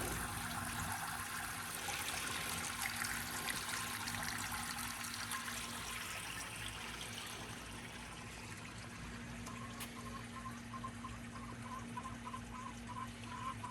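Water flowing out of the bottom of a garden pond filter, a steady soft trickling and gurgling stream with a faint pump hum underneath, continuous and quiet with no talking.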